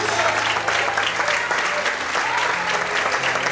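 Church congregation clapping during an evening worship service, a dense, loud, continuous patter of many hands with voices mixed in underneath throughout.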